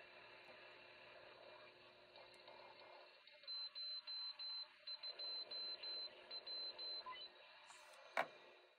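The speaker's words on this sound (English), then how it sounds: "We'll get up here and we'll hear some CW beacons." CW Morse code beacons received on a 10-meter ham radio converted from a CB set, heard as a string of faint, evenly spaced keyed tones over steady receiver hiss, ending with a brief click.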